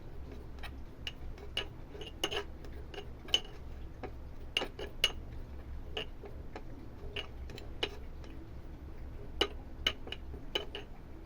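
Rose powder face pack stirred in a small bowl, a spoon ticking and clinking against the sides in a quick, irregular rhythm throughout, close and fairly quiet with no talk.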